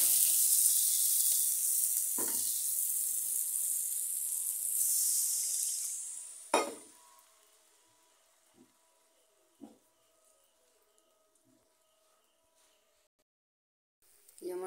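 Potato curry sizzles loudly in a pan for several seconds, then the frying drops away to quiet simmering with a few soft knocks and clinks.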